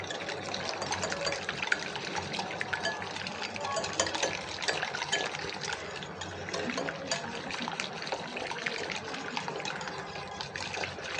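An electric hand mixer beats sugar into eggs for a Bengali pitha batter, giving a steady, low, continuous whirring that runs unbroken and evenly throughout.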